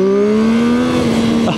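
Zontes 703RR motorcycle engine accelerating hard, a loud continuous tone rising steadily in pitch for over a second before dropping at a gear change, with a brief scrape of wind at the end.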